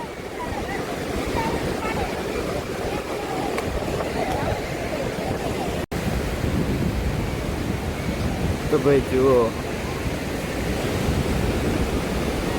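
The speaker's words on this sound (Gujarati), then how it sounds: "જુઓ કેવા મોજા આવી રહ્યા છે" Sea waves surge and wash at Dumas Beach in Surat, a steady broad roar of surf with wind across the microphone, continuous and fairly loud, while someone talks over it near the start and middle.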